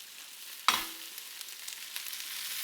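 A salmon fillet sears in a hot pan as oil goes on top: a sudden loud hiss bursts up, then settles into a steady, fairly quiet sizzle with small crackles.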